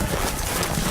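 Horse hooves clip-clop steadily in a Game of Thrones video game, a dense, continuous run of close hoof beats with no talking.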